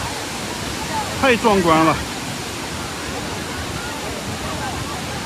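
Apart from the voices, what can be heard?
Hukou Waterfall on the Yellow River roaring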